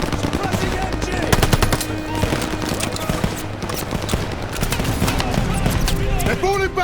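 Rapid machine gun bursts in the Call of Duty: Vanguard war game, firing at a half track amid a battle, dense crackling volleys close by with repeated sharp shots while soldiers shout over them.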